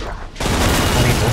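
Rapid 9mm pistol fire in Killing Floor 2, a dense burst of sharp shots erupting loud and close after a brief quieter moment.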